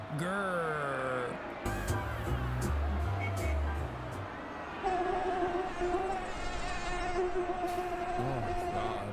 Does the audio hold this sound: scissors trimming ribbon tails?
no